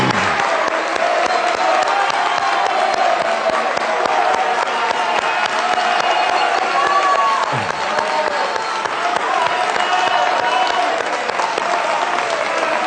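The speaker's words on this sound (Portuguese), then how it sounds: "Muito obrigado pela presença da plateia, que atendeu prontamente ao pedido de aplausos." Studio audience at a televised election debate applauding the candidates, sustained dense clapping with some crowd noise, loud and continuous throughout.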